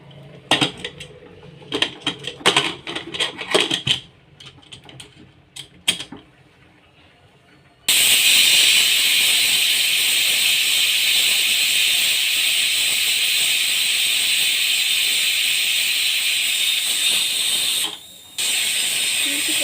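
A long, loud steady hiss of pressure cooker steam rushes on without pause as it whistles while cooking veg pulao, following a stretch of clattering metal pot sounds and brief knocks.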